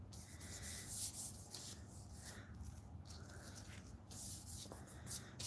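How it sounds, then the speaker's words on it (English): Alcohol ink being rubbed on yupo paper, a soft continuous scrubbing and swishing close by, fairly quiet, with no voices. "So let me rub here in case."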